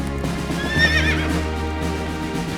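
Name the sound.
horse neighing and hooves clip-clopping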